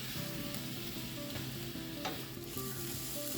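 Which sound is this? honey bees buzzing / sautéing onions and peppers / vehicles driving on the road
sautéing onions and peppers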